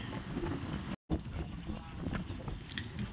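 Strong cold wind blowing across Velliangiri mountain, a steady rough broadband roar with buffeting on the microphone, briefly cut out for a moment then continuing loud and unbroken.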